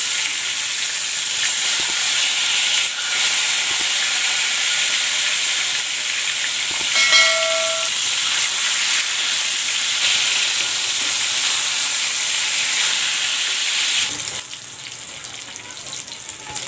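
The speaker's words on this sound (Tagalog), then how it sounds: "Ipiprito ko muna itong tambakol." Flour-coated mackerel tuna (tambakol), soaked in salt and pepper, frying in hot oil: a loud, continuous close sizzle and hiss lasting throughout, with a short tonal squeak midway, easing slightly near the end.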